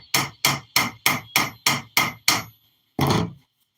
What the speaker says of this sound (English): I'm going to start ramming the powder. I don't know, 10 good whacks is usually good enough.